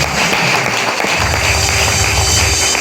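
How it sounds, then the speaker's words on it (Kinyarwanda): A church congregation claps loudly and steadily throughout, a dense continuous wash of applause at a pastor's installation ceremony in Rwanda. "Reka dukurire Imana amashyi menshi"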